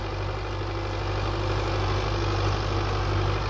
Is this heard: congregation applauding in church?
no